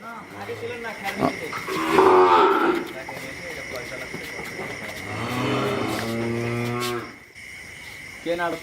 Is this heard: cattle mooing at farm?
yes